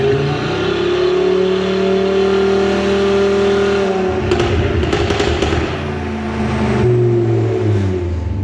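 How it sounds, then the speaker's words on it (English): An Audi RS3 with a Stage 2 tune runs hard on a dyno, its engine droning loud and steady before boost cut hits midway, breaking the note into stuttering, crackling pops and a sudden loss of power, then settling back to a lower hum. "I don't know if you guys heard there on the dyno, literally boost cut and we lost all power"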